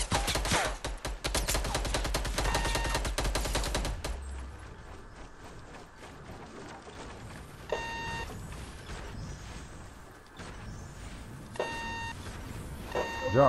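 Rapid gunfire in the video game Fortnite, a dense burst of loud automatic shots for the first few seconds, then quieter scattered in-game sounds with occasional short electronic tones.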